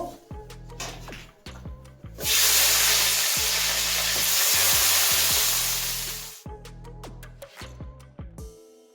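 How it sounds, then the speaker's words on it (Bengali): Flat beans hit hot oil in a wok and sizzle loudly for about four seconds, a steady hiss that fades, framed by clattering utensil knocks and stirring sounds before and after. "আর শিমগুলো দিয়ে ভেজে নেব"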